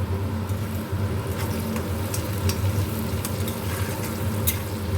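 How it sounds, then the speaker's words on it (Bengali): Onion frying with a little salt in a wok, a steady close sizzle with occasional stirring scrapes running throughout, no voices. "একটু লবণ দিলাম, লবণ দিলে তাড়াতাড়ি ভাজা হয়ে যায় পেঁয়াজটা"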